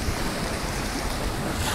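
Mediterranean sea waves on a beach near Nice at sunset, a loud continuous surf roar with wind buffeting the microphone, steady and close, with no talk.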